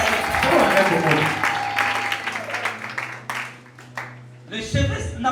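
A congregation at a French-language church service applauds the Lord, with dense clapping swelling at first and fading, a voice carrying over it and a steady organ-like tone underneath.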